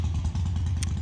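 A brief, loud engine rumble, like a motorcycle going by close, with a short clatter near the end.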